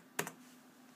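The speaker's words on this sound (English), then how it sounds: "I can just keep mashing delete here and it'll get into the BIOS" Keys pressed on a Logitech K120 USB keyboard, two quick, quiet clicks close together against a faint electrical hum.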